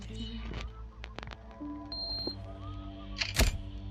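A camera shutter snaps once as a photo is taken in the Hello Neighbor video game, a crisp click near the end amid game ambience and faint electronic tones.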